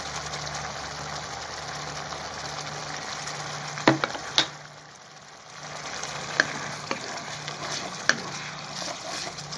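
Soy sauce sizzles in a pan with dried squid for sambal, a steady crackling hiss with a few sharp pops and a brief dip in the middle.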